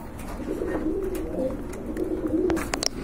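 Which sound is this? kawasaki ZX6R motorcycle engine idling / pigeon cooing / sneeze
pigeon cooing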